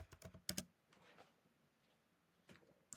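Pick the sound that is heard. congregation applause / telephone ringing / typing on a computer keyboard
typing on a computer keyboard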